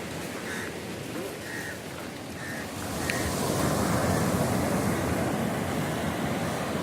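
Sea surf washes onto Pollem beach near Canacona, Goa. The steady hiss swells louder partway through, with a few faint chirps early on and some wind buffeting the microphone.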